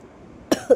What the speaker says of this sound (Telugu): సారీ అండి, దగ్గు వచ్చేస్తుంది.